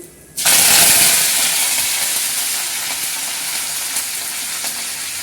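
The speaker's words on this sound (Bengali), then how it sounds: "তেল গরম হয়ে গেছে এবার দিয়ে দেবো ফোড়নটা ফোড়নটা দিয়ে দিলাম এবার কারি পাতাটা দিয়ে দেবো" Spices and curry leaves hit hot oil and burst into a loud, sudden sizzle that stays steady and bright, slowly easing, with a few crackles and no talking.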